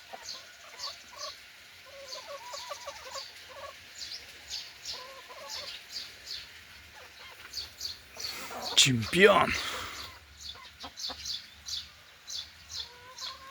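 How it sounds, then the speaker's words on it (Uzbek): Farmyard chickens cluck in short repeated bursts, moderately close, while someone talks over them; a louder flurry of calls and rustling peaks near the end before the clucking settles again. "Tovuqlarimiz."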